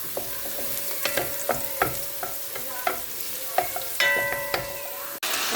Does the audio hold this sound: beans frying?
yes